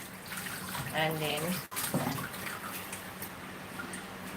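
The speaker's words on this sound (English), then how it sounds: "Wash my hands." Hands being washed under a running kitchen tap while cooking, a steady gush of water with brief splashing, and a person speaking over it.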